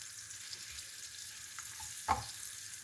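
White cheese dropped into melted butter in a pan, a faint low sizzle with a small splat and clatter as the pieces go in.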